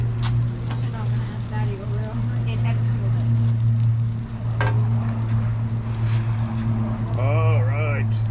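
Butter and eggs fry on a hot grill with a steady crackling sizzle throughout, while people talk nearby over the cooking noise.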